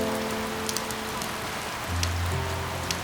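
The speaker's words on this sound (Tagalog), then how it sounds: "Tingnan natin yung ulan." Heavy rain pours steadily on a surface at a riverside campsite by the Nambalan River, a dense continuous hiss with occasional louder drops and a low hum underneath.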